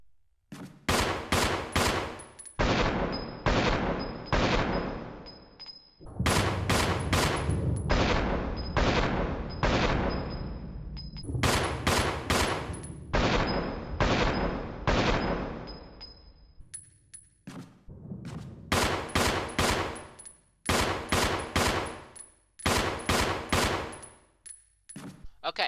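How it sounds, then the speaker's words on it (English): Rapid bursts of gunfire from an infinite-ammo burst-fire gun in the Resident Evil REmake video game, loud and repeated in rhythmic clusters of about three shots with short pauses between bursts. "It's almost burst fire because it fires like 3 rhythmic shots and then repeats it."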